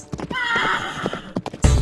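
A horse neighs with clip-clopping hooves during a staged group dance performance at a school arts festival, a drawn-out whinny followed by sharp hoof beats and a loud thump at the end.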